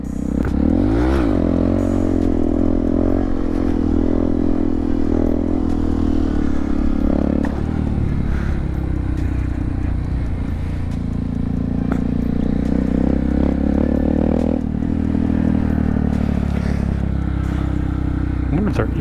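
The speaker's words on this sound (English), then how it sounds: "Let's rip some nifty wheelies." A Honda Grom motorcycle engine runs loud and steady close by throughout a cold-weather hooligan group ride with wheelies, its pitch rising and falling as the rider works the throttle through the gears.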